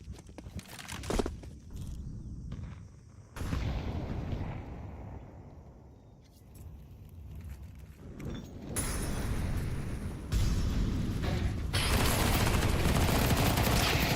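Pistol gunfire in a South American competitive shooter match, bursts of sharp shots and clattering fire coming in clusters across the stretch, with loud dense stretches toward the end.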